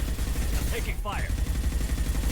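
Rapid gunfire in the Mass Effect video game, a steady rattling stream of shots with a brief voice-like sweep in the middle, fairly loud throughout.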